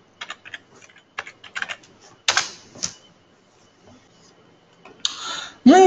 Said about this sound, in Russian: Повторно вводим все свои данные для входа.